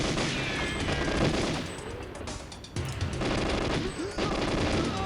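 Enemy gunfire in the GoldenEye video game train level, rapid automatic bursts of shots echoing through a carriage corridor, loud and continuous with brief pauses, game ambience underneath.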